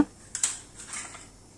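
Iron miniature cookware, including a vada pan, a jalebi kadai, a paniyaram pan and a dosa griddle, clinks faintly as it is handled, giving two or three quick, light metallic taps before the sound fades into quiet.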